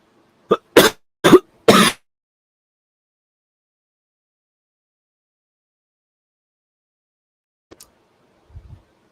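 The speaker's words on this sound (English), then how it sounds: "there's a hair in my throat and I can't cough it out" Three sharp coughs in quick succession, close and loud, followed by a long silence and a few faint throaty sounds near the end.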